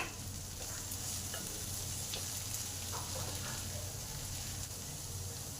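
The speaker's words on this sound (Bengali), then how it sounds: "সবজি যখন ভালোভাবে ভাজা হয়ে এসেছে" Vegetables fry in a pan for a breakfast dish, a steady close sizzle with occasional stirring scrapes and no one talking.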